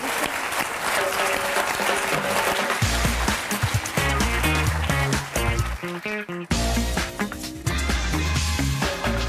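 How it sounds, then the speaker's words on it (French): A TV studio audience applauds a comedian on a French talk show, loud sustained clapping mixed with music throughout, briefly dipping before resuming. "On peut applaudir Florence Foresti."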